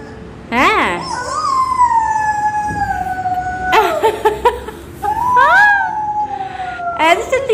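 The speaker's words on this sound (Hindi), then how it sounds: "ऐसे चलती है एम्बुलेंस।" A child's toy ambulance gives off a wailing electronic siren at close range, its pitch sliding up and down in repeated sweeps. Sharp beeps and chirps break in now and then.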